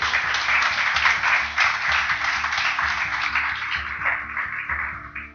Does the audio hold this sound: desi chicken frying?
no